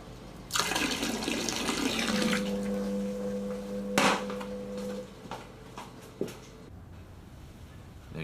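Water gushes from a tap into a blocked kitchen sink, a close, steady splashing rush with a rising tonal whine partway through that then tapers off, followed by a few small clunks.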